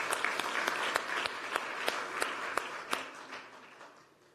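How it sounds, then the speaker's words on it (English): An audience at a European ocean conference applauds the arriving European Commissioner for Fisheries and Oceans, individual claps standing out amid a moderate round that gradually thins and fades toward the end. "A warm round of applause."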